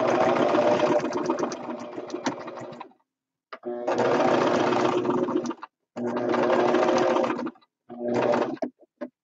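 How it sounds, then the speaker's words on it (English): A sewing machine stitches petals down onto a quilt. It runs in four loud, close bursts of rapid stitching, with short silent pauses between them. "Sew these petals down."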